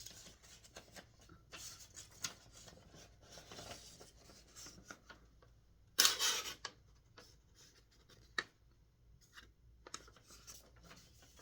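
A very sharp Microtech knife blade slices through paper, producing soft scratchy cutting strokes with a louder crisp tearing swipe midway and a few quieter rasps after, close and alone.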